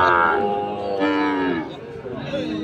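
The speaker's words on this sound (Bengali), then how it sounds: "আমবাড়ি হাটে যে সাইওয়াল জাতের বাছুরগুলো প্রাইভেট করা হচ্ছিল" Sahiwal calves moo loudly and close by at a cattle market, one long drawn-out bellow after another, with a faint murmur of people in the background.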